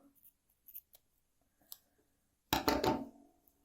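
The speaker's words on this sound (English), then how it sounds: "Snip a tail." Scissors snip through a crochet yarn tail in one quick, close burst of crisp cutting near the end, after a few faint handling clicks.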